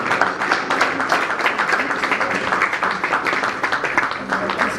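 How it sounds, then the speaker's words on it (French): An audience at a 2016 awards ceremony in the DRC applauds loudly for an honoree, a dense burst of clapping that stays strong and continuous throughout, with voices mixed in. "On applaudit très fort."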